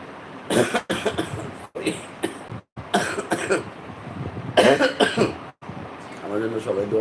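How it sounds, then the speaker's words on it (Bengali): A person coughs several times in short bursts, with pauses between, close to the listener and mixed with some breathy vocal sounds. "কাশি কাশ একটু পরপর কাশতেছে"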